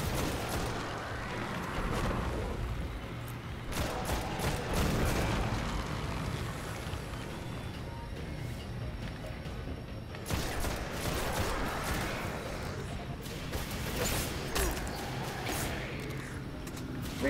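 Automatic gunfire and battle noise from Destiny: The Taken King on Xbox One: dense, continuous volleys and rattling bursts that run steadily through the whole stretch, with some low rumble underneath.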